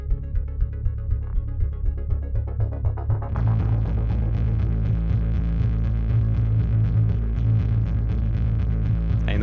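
Bass in a hybrid orchestral mix, first pulsing in clean low throbs, then switching abruptly to a dense, buzzing distorted tone that sustains loudly to the end once the automated distortion effect engages.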